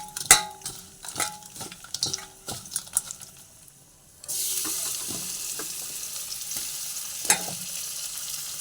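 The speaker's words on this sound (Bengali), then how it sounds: "আমি ততক্ষণে চিংড়ি মাছগুলোকে ভেজে নিই" Clinks and knocks of utensils give way to a loud, steady sizzle as prawns fry in hot oil in a pan, with an occasional sharp tap.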